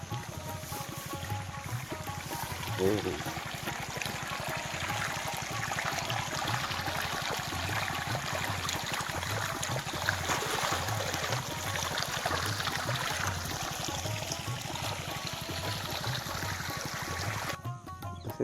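Irrigation water flows steadily into a rice paddy field, making a continuous soft rushing trickle over a regular low rhythmic throb that runs the whole time, with no voices.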